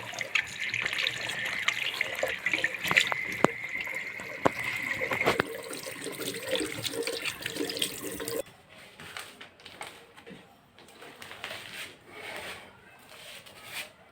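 Tap water runs steadily into a washbasin during plumbing fitting work, a continuous splashing hiss that stops partway through, leaving quieter handling and rubbing noises.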